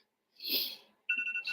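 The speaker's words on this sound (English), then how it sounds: "that's my alarm to go to work" After a soft rustle, a phone alarm starts ringing with a steady, high electronic tone, fairly faint and close.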